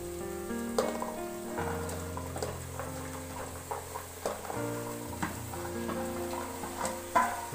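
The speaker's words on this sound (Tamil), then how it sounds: "இப்போ நம்ம கட் பண்ணி வச்சுருக்க வெஜிடபிள் பட்டாணி எல்லாத்தையும் போட்டுப்போம்." Chopped vegetables and peas tip into a pan of onions for veg biryani and get stirred, a steady soft sizzle with scattered scraping clicks running under a backing of music throughout.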